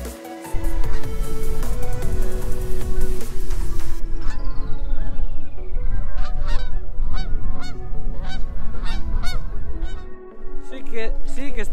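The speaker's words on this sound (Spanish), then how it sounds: "Patos que van ahí volando" Ducks fly overhead in cold winter weather, giving loud, repeated honking calls that continue through the whole stretch outdoors.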